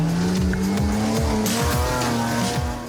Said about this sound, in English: Jimbo lines up and gives it some gas